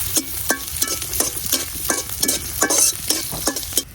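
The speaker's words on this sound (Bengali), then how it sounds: "সরিষার তেল পেঁয়াজ কুচি কিছু পেঁয়াজ একটু বাইজে দিতেছি" Chopped onion frying in mustard oil, with a steady sizzle and repeated rhythmic scrapes of a spatula stirring the pan at close range, for mashed cauliflower-leaf and dried-shrimp bhorta.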